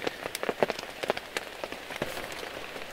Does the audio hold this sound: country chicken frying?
no